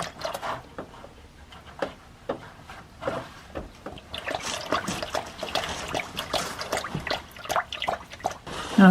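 Transmission fluid drains from a Honda CVT, trickling and dribbling steadily into a pan, with irregular drips and splashes close up.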